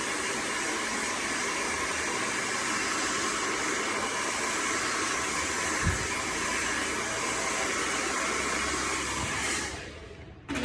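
A hair dryer on its cold setting blows in a steady, loud rush of air, with a brief knock midway before it cuts off near the end.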